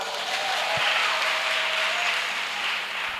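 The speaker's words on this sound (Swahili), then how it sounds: "Simpigie Mungu makofi" A church congregation applauds during a sermon, a dense, steady wash of clapping that fills the room evenly and carries on without a break.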